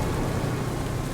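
Steady rain falling in the farming simulation game Farming Simulator 25, a dense, even hiss of close, constant downpour with low rumbling underneath and no pauses.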